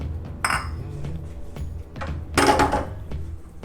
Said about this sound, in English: We're going to whisk that in until it incorporates